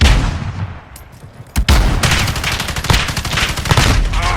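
Rapid bursts of automatic gunfire and sharp shots crack through a Modern Warfare beta match, with a loud close blast mid-clip followed by dense continuous firing.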